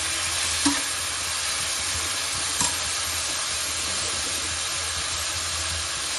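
Sliced onions frying with a pinch of salt in a pan, a soft steady sizzle and hiss continuing alone throughout, with two faint knocks of a utensil against the pan.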